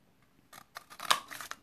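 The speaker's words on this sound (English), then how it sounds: "I'm just going to snip the ends of this one." Scissors snip the ends of a paper banner for a handmade card, several short crisp cuts close by, the loudest near the middle, in a quiet room.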